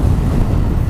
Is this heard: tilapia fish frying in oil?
no